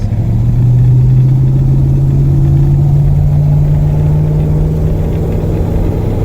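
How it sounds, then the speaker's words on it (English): A 1973 Mercury Cougar XR7 engine pulls steadily on a feeder road as the driver gives it gas, a loud, close, continuous low drone with a slowly rising tone and no talking. "I'm gonna give it some gas"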